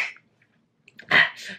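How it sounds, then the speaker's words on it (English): A single sneeze rings out close and loud near the end, preceded by a short breathy intake and quiet pauses. "I'm about to sneeze"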